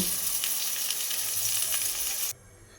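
Pointed gourd fries in mustard oil in a pan, giving a loud, steady close sizzle that cuts off abruptly near the end.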